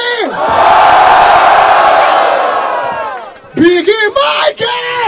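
A crowd at a Brazilian street rap battle in Barueri, SP roars with loud sustained cheering and yelling for rapper Kant after a round, the noise swelling then breaking into scattered shouts and whoops near the mic.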